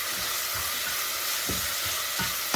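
Sliced onions and garlic frying in a pan with soya chunks send up a loud, continuous sizzle and hiss, broken by a few soft scraping stirs near the end; no voices.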